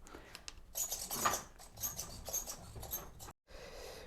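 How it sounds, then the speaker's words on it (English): The steering servo on a Force RC HammerJaw truck with a rear-steer upgrade (Jx BLS-7032HV) whirs and patters as it works. The sound comes in soft, scratchy bursts, with a brief pause near the end. "Most of the noise you hear up front is the steering system itself."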